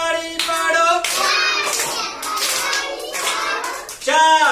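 Young children at a preschool activity clap their hands during a counting song, sharp claps mixed in among singing children's and adult voices nearby.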